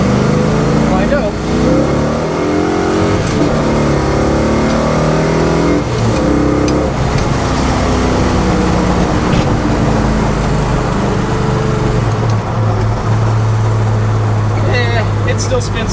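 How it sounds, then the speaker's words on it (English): A car does a burnout, its engine roaring continuously with rising revs and spinning tyres on a road, loud and near, with a person talking over it. "It still spins the tires."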